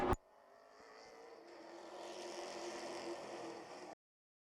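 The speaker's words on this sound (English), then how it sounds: "It's time to go Saturday night racing at Wiscasset Speedway." Race cars at Wiscasset Speedway on a Saturday night, their engines a steady, fairly faint droning roar heard from a distance, swelling slightly as the pack passes, after a brief sharp knock at the start.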